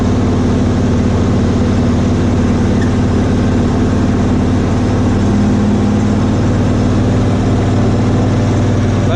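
Cushman Truckster's engine straining up a hill in third gear, a loud, steady low drone with a deep rumble that holds constant and close throughout.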